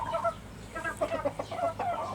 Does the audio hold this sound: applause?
no